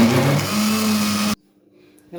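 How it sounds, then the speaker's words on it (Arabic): A kitchen blender grinds lentils in a loud, close, steady whir for just over a second, then cuts off abruptly into near silence. "كده انا ضربت العدسه في الخلاط"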